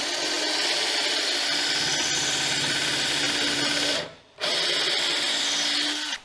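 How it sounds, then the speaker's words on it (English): A power drill drives a construction screw into wood for a drawer build, whining loudly and steadily at close range, stopping briefly near the end before spinning up again and halting. "So when I put this screw in, it's going to be sitting well below the surface."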